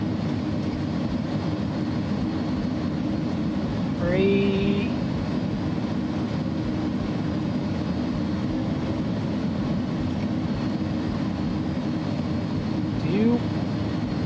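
Steady engine and airframe hum of an A300 cargo airliner taxiing and parking at the gate in a flight simulator, a continuous droning bed with brief electronic tones and a voice calling out over it.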